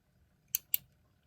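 Two sharp, quick mechanical clicks from the spring click ratchet of a c. 1958 400-day clock, close together, crisp and near in an otherwise quiet space.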